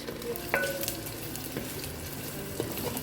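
Whole spices such as bay leaf, green and black cardamom, peppercorns and cloves sizzle in oil in a clay pot for mutton biryani, with a steady fry hiss and a few scraping stirs.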